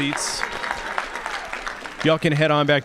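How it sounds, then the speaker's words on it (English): Audience at a school district quiz finals claps for the competing teams, a brief burst of applause that gives way to a voice speaking over the hall. "Let's give both of these teams a big round of applause one more time."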